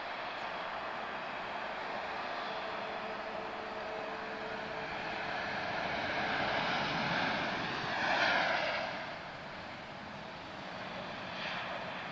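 Jet engines of an Azores Airlines Airbus A320 at Lisbon Airport roar steadily from a distance, with a broad rumble that swells briefly as the aircraft passes, amid other airport traffic.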